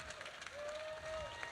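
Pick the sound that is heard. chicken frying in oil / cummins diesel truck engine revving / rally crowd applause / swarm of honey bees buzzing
rally crowd applause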